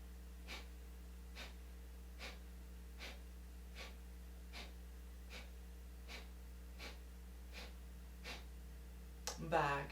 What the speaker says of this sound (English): a forceful exhale by contracting the abdominals and a passive exhale